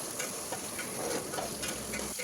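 Home-grown mint and coriander leaves frying in a pan, giving a steady, close sizzle with light stirring scrapes and no talk.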